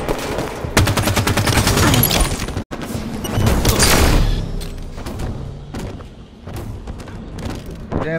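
A grenade explosion in a shooter game lands amid a loud fusillade of gunfire, the booming blast rolling out after a brief dropout, then fading into scattered shots.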